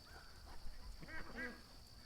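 A single duck quacks a couple of times on a live outdoor wildlife camera feed, faint and somewhat distant over low background noise and a steady high hum.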